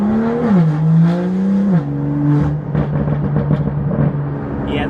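Loud exhaust note from a BMW M car fitted with Thor M Flasher exhaust valves held open, a deep droning tone that climbs and settles through shifts, close and continuous with no talk.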